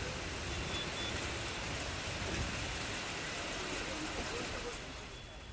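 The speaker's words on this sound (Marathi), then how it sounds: "वसई विरारमध्ये सुद्धा जोरदार पाऊस पडत आहे" Heavy monsoon rain pours down in the Mumbai area, a dense, even roar of falling water that holds steady throughout and eases slightly at the very end.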